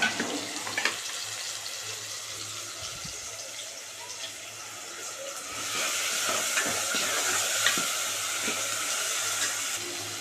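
Onion, tomato and garlic frying in a pan for a Marathi varan chikhalya dish, giving a steady broadband sizzle with a few stirring scrapes, growing louder and fuller in the second half, with no talking.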